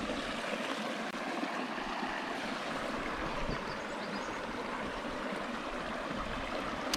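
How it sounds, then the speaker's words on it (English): A creek flowing at a campground, a steady broadband rush of running water that stays even and fairly close throughout, with no voices. "This creek is pretty though."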